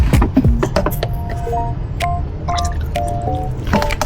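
Tap water runs and splashes onto soil around tomato seedlings before transplanting, with wet squishing and dripping sounds and a few squeaky tones, fairly close and loud, no talk.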